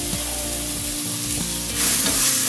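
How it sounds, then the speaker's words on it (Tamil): Onions and green chilies sauté in a hot pan, a steady close sizzle with stirring scrapes of the spatula running through the whole stretch, growing slightly brighter near the end. "ரெண்டு சின்னதாக ஆனியன் கட் பண்ணி வச்சுருக்கேன், அதையும் போடுங்க. போட்டு வதக்கு."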